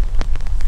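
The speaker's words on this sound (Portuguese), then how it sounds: "Chegou aqui, estamos pescando na chuva." Rain pours down during a fishing trip, a loud, steady hiss with scattered heavier patters of drops close by, and no one speaking.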